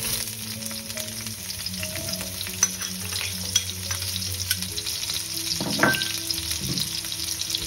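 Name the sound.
onions frying in oil in a wok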